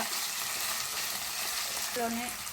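Tomato, turmeric and green chillies frying in a pan, with steady close broadband sizzling throughout and a brief soft stirring sound near the end, with no voices.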